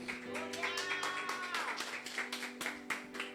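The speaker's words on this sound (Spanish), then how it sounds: "Póngase de pie, denle un aplauso al Señor." Congregation clapping in a church service, a dense patter of claps over a steady sustained tone, with voices mixed in throughout.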